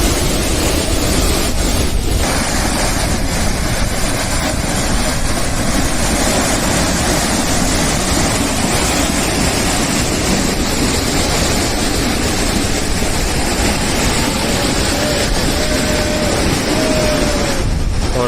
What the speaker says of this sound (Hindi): ये देखिए गजब का वाटरफॉल, कैसे उड़ रहा है पानी हवा के साथ।